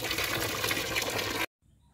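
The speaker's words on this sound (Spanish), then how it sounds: "se le pega una jugada a la tubería nuevamente con agua" Clean water gushes through the drinking-water pipes of a chicken house during a line flush, a loud steady rush that cuts off abruptly, leaving near silence.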